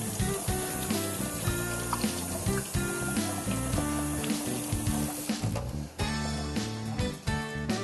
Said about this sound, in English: I'm gonna rinse off my mitts real quick